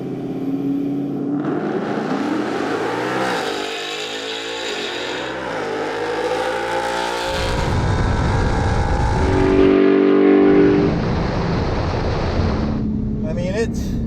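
A naturally aspirated 2019 Ford Mustang GT makes a drag strip pass. The engine revs and surges loudly, building to a sustained roar before easing off, with voices heard at times.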